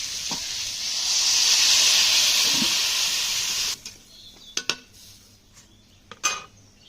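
A pot of ground mustard and cumin paste mixed with water hisses steadily as it heats, then goes quieter, with a few sharp metallic clinks of the lid and utensils.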